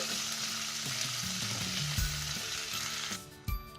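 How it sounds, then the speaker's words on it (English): Onions and green chilies sauté in a pan for chilli mushroom Manchurian, a steady close sizzle with soft stirring scrapes running throughout, and no voices. "we'll add the onions and our green chilies. Saute well."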